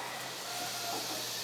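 Butter sizzling under a pancake in a frying pan, a steady, even hiss running the whole moment at moderate level with no talk over it.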